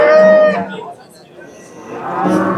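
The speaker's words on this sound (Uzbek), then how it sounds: "sigir yangi tug'ibdi mana" A cow that has just calved moos loudly and close at a busy livestock market, with a long low call at the start and another rising near the end, faint chatter behind.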